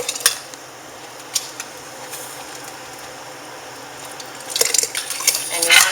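Hot tomatoes are ladled from a 16-quart pan into canning jars, with scattered clinks and scrapes of ladle against pan and glass and a louder run of clatter and pouring near the end, with no talk.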